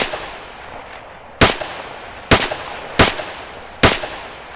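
Four sharp rifle shots from a modded rifle in Arma III ring out one at a time, loud and close, each with a short echoing tail, spaced roughly a second apart over a quiet outdoor background.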